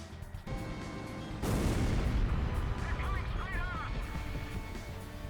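Napalm special weapon bombing in a jet combat video game: a sudden loud blast after a steady engine drone, then a sustained roaring, crackling rumble of explosions with faint warbling tones above it.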